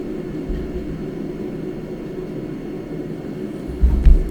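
Steady low jet engine rumble from a JF-17 fighter in the DCS flight simulator, throttled back off afterburner, continuous and droning with a slightly louder low thump near the end.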